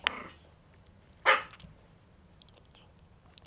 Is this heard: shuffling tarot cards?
no